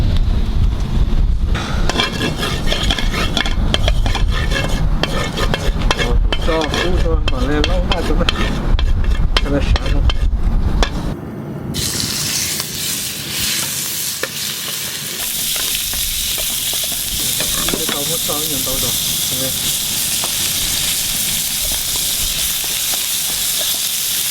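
Chicken and shrimp fried rice ingredients sizzling loudly in a pot of hot oil while being stirred, a steady frying hiss with scraping and clattering that shifts partway through to a brighter, denser sizzle.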